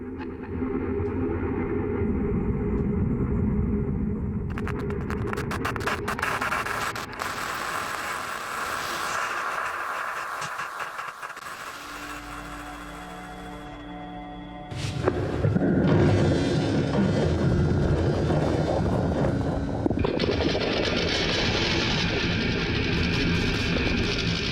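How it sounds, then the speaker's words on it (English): Dense atmospheric drone from the Presage sound design library, a layered rumbling texture that shifts midway into a brighter, hissing wash, sustained and loud throughout with no voices. "Atmos and drones."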